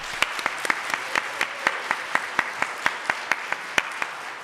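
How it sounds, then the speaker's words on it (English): A small audience at an NC House and Senate candidate forum gives a round of applause for Bill O'Neill, steady rhythmic clapping with sharp, evenly spaced individual claps standing out close by over a softer bed of hands. "Could we just give him a round of applause?"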